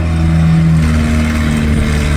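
Skid steer loader engine running close and loud, a steady droning rumble with a sustained tone that shifts slightly in pitch as the machine works.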